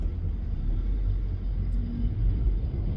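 A car cruising on an Australian road, heard from inside as a steady low rumble of engine and tires at an even, moderate level, with no talk.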